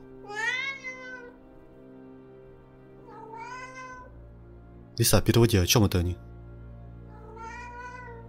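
A cat in the Alfred Hitchcock Vertigo video game meows several times, clear and close, with rising, drawn-out cries spaced across the stretch, while people talk and a loud burst of other game noise cuts in midway.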